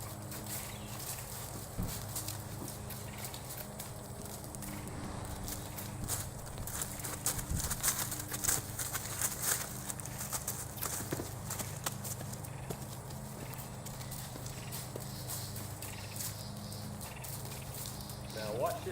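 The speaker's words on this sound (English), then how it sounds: "watch this horse as he travels around" A horse's hooves clip-clop at a steady walking pace as it moves around nearby, and someone talks over the footfalls.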